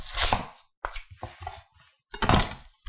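A Misen chef's knife slices through recipe ingredients on a cutting board in three crisp, close cutting strokes separated by brief pauses, with no talking.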